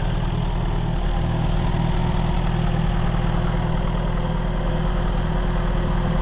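Vintage Kohler 4 kW light plant generator running at a steady 1200 RPM, a loud continuous low thumping drone with even rhythmic firing pulses, close by and alone.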